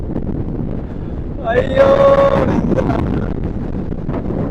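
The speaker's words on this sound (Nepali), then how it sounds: "कसम डेन्जर हावा चलिरहेछ" Strong wind on a beach roars against the microphone as a continuous low buffeting rumble, while a voice gives a short exclamation partway through.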